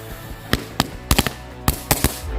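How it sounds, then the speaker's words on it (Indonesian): Firecrackers and assorted fireworks blasting inside a jumbo can: a string of sharp, loud bangs at irregular intervals, several in quick succession, over a low background rumble. "ini dia semua jenis mercon dan juga petasan yang bakal kita eksperimenkan ke dalam kaleng jumbo"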